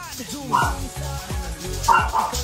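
A small white dog gives several sharp, high yips and barks close by at a pet center, in short bursts, with people talking over them.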